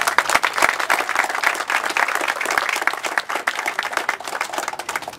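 Strong applause from the crowd at a public works groundbreaking ceremony, a steady wash of sharp, closely packed claps that runs throughout at a fairly close distance.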